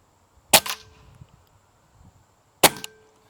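Two sharp, close air rifle shots fire H&N pellets at a bench rest target 75 feet away, each a crisp crack followed by a brief mechanical rattle, about two seconds apart, in a quiet setting.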